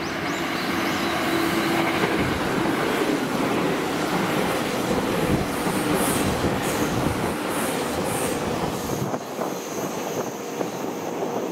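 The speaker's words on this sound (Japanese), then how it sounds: "まもなく列車が参ります。" A JR Central 313 series rapid train rumbles in steadily on the Tokaido Line at Mikawa-Shiotsu with broadband rail noise and a brief wheel squeal, then the roar eases as it slows near the platform.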